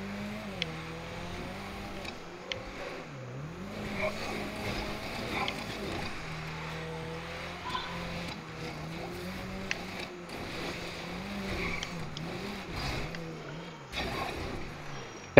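A Faggio scooter engine in GTA 5, a buzzing motor note that rises and falls as the throttle changes, with a few faint clicks, continuous and moderately close.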